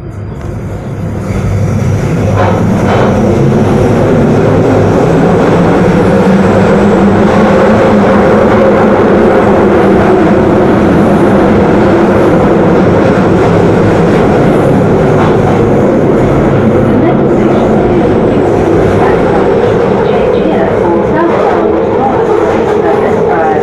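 A London Underground Northern Line train departs Euston Station, with a loud, continuous rumble and rising motor whine as it gathers speed, heard from inside the carriage with steady rail noise throughout.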